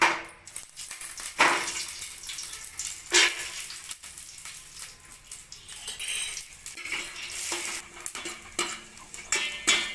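Dry fruits frying in ghee in a pan for carrot payasam, giving a soft continuous sizzle under close, irregular scrapes and clinks of a spoon stirring against the metal.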